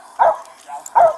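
A police dog barks during an arrest: two sharp, loud barks close by, about a second apart, with quieter growling and whimpering in between.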